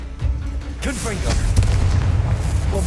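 Confringo spell blasts in Hogwarts Legacy, a series of deep booming explosions rolling over dense game combat noise with voices calling out in the mix.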